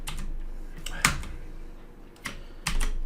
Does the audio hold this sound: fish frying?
no